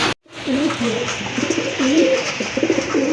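Fancy pigeons, a pair of Muslidom (Chuithal) birds at a pigeon market stall, coo repeatedly in close, warbling phrases over steady background chatter and market noise, with a short dropout near the start.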